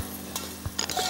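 Pepper, lentils, onion and tomato sauté in a pan, a soft sizzle broken by a few quick scraping stirs and light clinks, close and brief.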